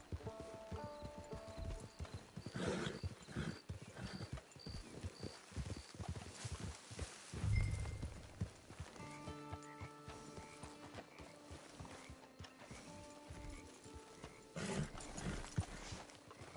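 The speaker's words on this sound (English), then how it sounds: "It's your horse." Horse hooves clip-clop in the video game Red Dead Redemption 2, steady rhythmic footfalls with a whinny and soft game music tones layered over them.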